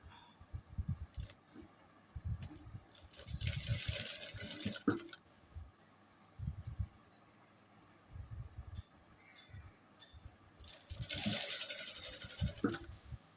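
A sewing machine stitches a child's kurta in short bursts of rapid mechanical clatter separated by quiet pauses, with light clicks and fabric handling between runs.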